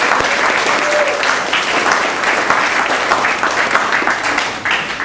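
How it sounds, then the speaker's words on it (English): Sustained applause from an audience at a high school spring sports banquet, dense clapping at steady loudness throughout, no talking over it. "So a nice round of applause for them"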